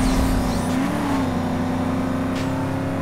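A Lamborghini Urus in the PC game NFS Most Wanted, modded, roars with a loud, steady engine drone that rises slightly in pitch while driving, continuous and close throughout with no speech.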